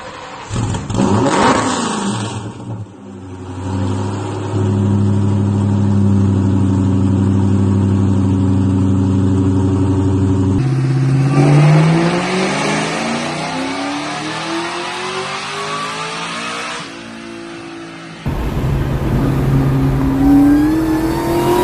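A deep V8 engine in a 920 hp 2004 Mustang SVT Cobra revs through a Bassani exhaust, rumbling at idle, then climbing and falling in pitch with throaty roars, loud and close.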